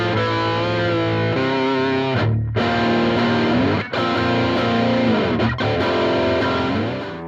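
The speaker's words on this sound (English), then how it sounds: "This is a distortion pedal. It makes your guitar sound like shit," An electric guitar played through a distortion pedal rings out loud and thick, sustained chords changing a few times with brief breaks between them.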